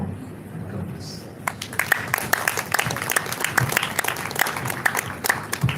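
A lecture audience bursts into applause after an ophthalmology faculty lecture, quiet at first and then a steady, full spread of many hands clapping with sharp individual claps standing out.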